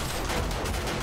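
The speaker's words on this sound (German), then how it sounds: "die Turrets greifen an" Automated turrets firing in the zombie survival game 7 Days to Die, a dense, continuous burst of rapid gunfire that fills the whole moment with no pauses.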